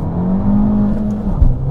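An Abarth 595 Esseesse engine revs hard up close, a loud buzzing drone that climbs and holds before a brief drop near the end, as if shifting gears.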